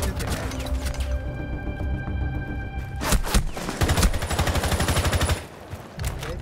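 Rapid automatic gunfire from the Rainbow Six video game, several dense bursts of shots layered over a steady game soundscape, loud and close, with a brief pause near the end before firing resumes.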